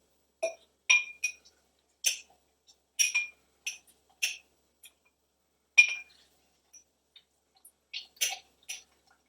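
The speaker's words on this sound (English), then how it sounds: "the first thing we do is we muddle 2 lime wedges in a highball glass" Lime wedges muddled in a highball glass for a pear schnapps mojito-style cocktail: sparse, irregular glassy clinks and taps of the muddler against the glass, each brief and moderately close, with quiet gaps between them.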